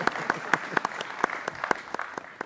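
A conference audience gives a thin, scattered round of applause at a Welsh Labour gathering, individual claps distinct and sparse rather than a full ovation, fairly quiet.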